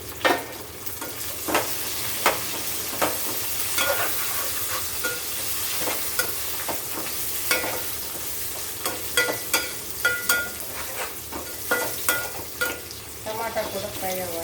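Chopped tomatoes frying into a mutton curry masala in a hot pan, a steady sizzle with frequent scraping and clacking of a stirring spoon throughout, fairly close and without speech.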